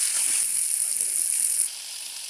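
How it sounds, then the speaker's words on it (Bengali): Fried rohu fish head sizzling in a pan, a steady close hiss that holds for a moment and then drops slightly quieter, with no voices over it. "আমি এখন এর ভিতরে সেই ভেজে রাখা মাথা দিয়ে দেবো"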